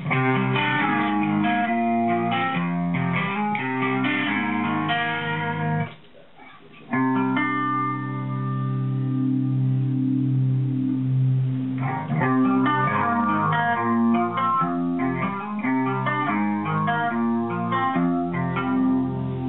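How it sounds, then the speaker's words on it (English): A distorted electric guitar through an effects pedal wails with rising and falling pitch sweeps, like a siren, after a short dropout. "We can also really get all kinds of like police sounds."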